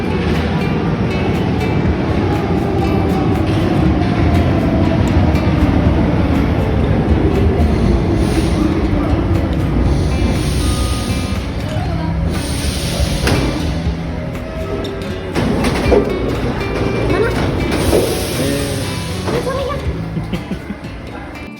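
Commuter train ride in Paris, a loud steady rumble of wheels and carriage running throughout with rattling and occasional clacking, fading slightly toward the end, no talk.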